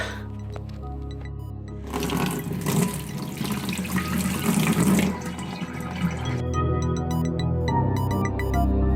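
Steady running water from a tap rinsing film negatives pours and splashes continuously, with a louder, fuller rush in the middle and clinking sounds at the edges.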